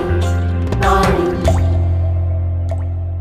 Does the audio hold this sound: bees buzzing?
no